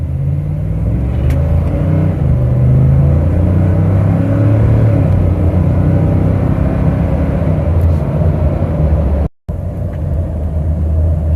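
A 2015–2018 Ford F-150 with a 5.0 V8 and a Rough Country cold air intake accelerating hard, a loud, steady low engine rumble building from inside the cab, with one brief dropout near the end.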